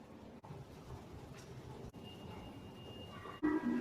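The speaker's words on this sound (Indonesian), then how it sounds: "Kereta MRT akan kembali melanjutkan perjalanan." A Jakarta MRT metro train departing a station hums and rumbles steadily, with brief dropouts and a faint rising tone, ending in a louder thump.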